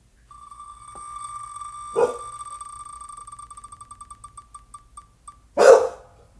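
A dog barks twice, loud and close, once early and once at the end, over a steady ringing electronic tone that pulses faster and fades out between the barks.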